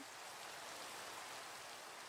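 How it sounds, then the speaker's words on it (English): Steady rain falls in the Minecraft video game, a soft, even hiss of drops that holds constant and faint with no other sounds. "It's raining now. Listen."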